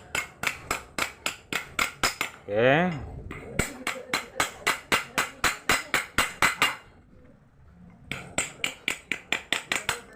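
A T-wrench taps the shaft of a Sekai 18-inch electric fan during repair, giving a rapid series of sharp metallic knocks in bursts. A short spoken word and a brief whirring sound fall between the groups of strikes.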